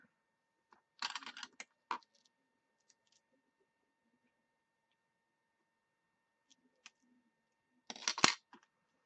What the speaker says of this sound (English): I'm gonna snip that off.